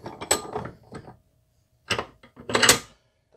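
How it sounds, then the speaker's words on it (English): A bad M6 bolt is clamped into a bench vise, giving a few short metallic clanks and a ratcheting turn of the handle, with quiet gaps between. "Just gonna put this in my vise."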